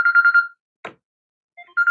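A phone ringtone chirps in a bright repeating electronic pattern, stops, gives way to a brief knock-like tap, then starts ringing again.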